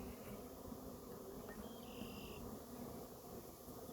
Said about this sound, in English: there's a lot of bees right now